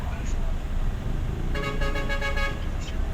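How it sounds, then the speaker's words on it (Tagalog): A car horn honks midway through, a short sustained blare over rumbling road traffic and engine noise. "busina naman yung nasa likod eh"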